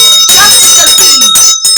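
A bell rings loudly and brightly in a sustained, shimmering burst, with a brief gap before the ringing returns.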